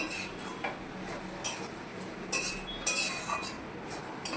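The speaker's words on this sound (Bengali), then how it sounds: "এবার দিয়ে দেবো ওই যে ডিমের কুচিটা নেড়ে দিয়ে দিলাম।" Utensil stirring chopped egg in a cooking pot, giving light, irregular metallic clinks and scrapes against the pot, close and fairly quiet, with no talking.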